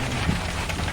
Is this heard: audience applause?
no